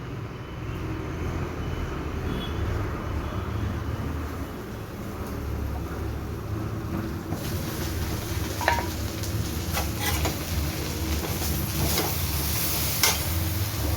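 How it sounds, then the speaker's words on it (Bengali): Chopped onion frying in a pan until browned, a soft steady sizzle at low level with a few faint scrapes of stirring toward the end, no voices. "পেঁয়াজটা খুব ভালো করে প্রথমে ভেজে নিতে হবে, একটু বেশ লাল করে"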